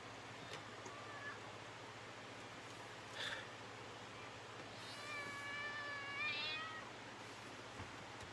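A cat in a home meows in two bursts, a short faint call and then a longer wavering meow close by, over a low steady hum, with soft rustling and no talking.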